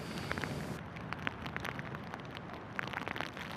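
Steady patter of rain on a surface nearby, with scattered sharper drops tapping irregularly throughout.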